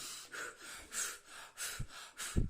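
Forceful, angry-style breathing done as a calming exercise for children: several sharp, loud huffs and snorting exhales in an uneven rhythm, close up, with no talking.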